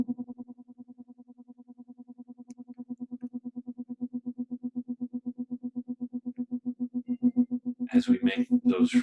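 A steady pulsing tone made of two close tone frequencies beating against each other, swelling and fading in a regular rapid rhythm and growing louder; a burst of voice breaks in near the end.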